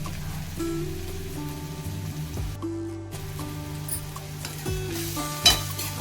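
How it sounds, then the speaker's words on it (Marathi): Radish with dried shrimp and homemade masala stir-fried in a pan, a steady close sizzle with scraping stir strokes and a brief sharp clatter near the end, with faint background tones and no voice. "एक दोन मिनिट चांगलं परतवूया"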